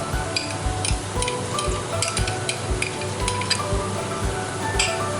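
Capsicum, beans and carrots stir-fried in a pan for fried rice: a steady sizzle with regular scraping and clinking from a utensil against the pan, close and continuous.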